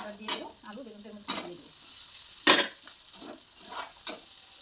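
Potatoes and eggplant with tomatoes sauté in a pan, a soft sizzle running throughout, broken by five or six sharp scrapes and knocks of a spatula stirring at uneven intervals.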